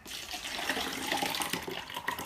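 Produce is washed with strongly alkaline Kangen water at home, a steady splashing stream of running water close by, continuous for a couple of seconds with light bubbling bursts.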